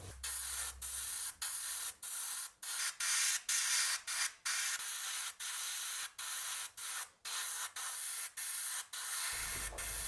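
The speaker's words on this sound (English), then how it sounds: "Next, I'm going to paint this part in flat white." Short bursts of spray paint hiss from an aerosol can as flat white is applied to a 1/24 Tamiya Porsche 959 model car part, about a dozen quick sprays at an even, close rhythm.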